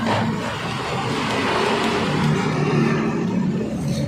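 A motorcycle engine at a tofu factory revs nearby in a loud, continuous roar that swells and eases slightly over a few seconds.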